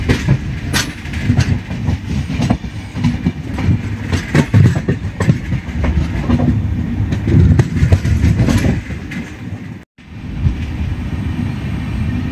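Nilgiri Express with new LHB coaches running at speed: a loud, close, steady rumble with rhythmic clickety-clack of the wheels over rail joints, briefly dipping near the end before continuing.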